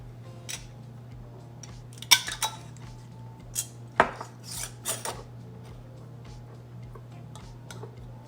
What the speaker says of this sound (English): So I'm gonna go ahead and put the lids on.